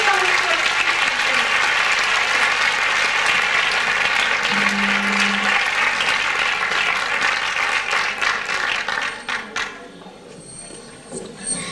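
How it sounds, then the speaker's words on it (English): A large audience gives performer Christian Falsum a big round of applause, loud, dense clapping that holds steady for about nine seconds before quickly thinning out into scattered claps and quiet. "A big round of applause now for Christian Falsum"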